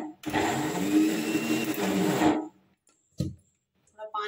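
Mixer grinder whirring loudly as it grinds soaked dal for making bari, a steady motor roar lasting about two seconds, then stopping, followed by a brief short burst and faint sounds.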